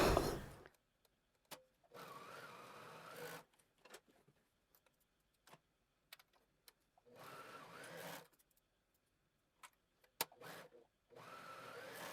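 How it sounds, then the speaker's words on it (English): A serger sewing machine stitches fabric in several bursts of fast, whirring mechanical hum, each lasting one to two seconds, separated by quiet pauses and light clicks. "I'll go ahead and use my serger"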